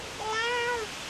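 A young child imitates a cat, giving a single short, high, rising-and-falling meow, close and clear, with a little room noise around it.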